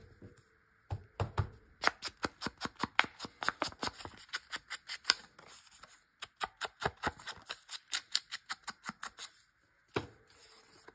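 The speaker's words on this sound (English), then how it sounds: "And this piece is extremely long, so I was just going to cut it off." Scissors snip through a long strip of paper in quick, crisp bursts of closely spaced cuts, with short pauses between runs, close up and alone.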